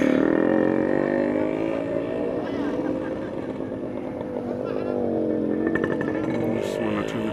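A motorcycle engine idles close by with a steady, rough rumble, while someone talks over it throughout.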